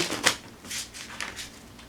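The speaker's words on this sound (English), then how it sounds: "They shuffle like good old poker cards." Thin, flimsy playing cards from the Amateurs to Arms board game are shuffled by hand, giving a run of quick papery riffling bursts up close, with no talking.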